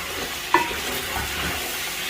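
Chicken browning in a pan while being stirred, with a steady soft sizzle, a sharp utensil scrape near the half-second mark and another at the end, no talking.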